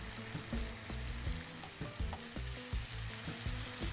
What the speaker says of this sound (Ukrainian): Підсмажую шпондер і додаю цибулю.